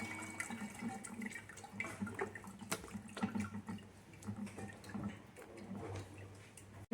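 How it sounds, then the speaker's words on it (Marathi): Water poured and splashing over freshly curdled homemade paneer in a kitchen, a continuous running and trickling wash with a few small knocks, steady and moderately close. "याच्यामध्ये आपल्याला पाणी घालून आणखी धुवून काढायचं ते व्यवस्थित."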